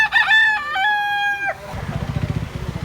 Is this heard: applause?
no